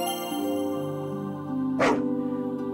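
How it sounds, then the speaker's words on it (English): A dog in the Voidswept video game gives a single short bark or yip over steady tonal background music, near and moderately loud. "we also want to pet this dog"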